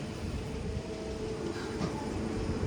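A Konkan Railway train pulling out of Mangaluru Junction rumbles steadily with a low, continuous rolling roar, heard from on board and without speech.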